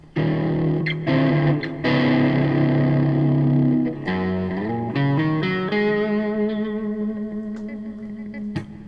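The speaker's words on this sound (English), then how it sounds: "it just makes everything sound that much better when you use vibrato" Distorted electric guitar holding notes with wavering vibrato, bending pitch slightly, loud and sustained with some effects coloring the tone.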